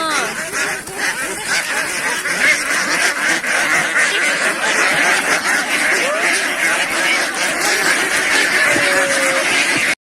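Many ducks quack in a dense, continuous chorus in a duck pen nearby, the calls overlapping for the whole stretch.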